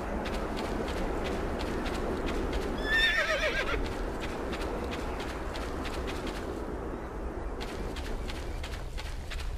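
In the mobile video game BackStab HD, a horse gives a single shrill whinny over steady galloping hoofbeats, which keep a fast, even clip-clop rhythm throughout.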